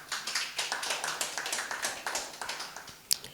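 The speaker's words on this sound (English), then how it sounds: "You can clap." Light, sparse clapping from an audience at a neighbourhood water-sufficiency event, a handful of separate claps repeating in a loose rhythm, fairly faint, with one sharper clap near the end.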